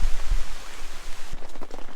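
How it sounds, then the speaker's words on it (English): Rain patters steadily on a tent at a backcountry campsite during a multi-day paddling trip in Killarney, a dense close hiss of drops with a few heavier taps standing out. "It's rain."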